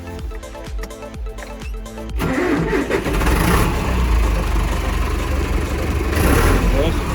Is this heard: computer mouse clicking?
no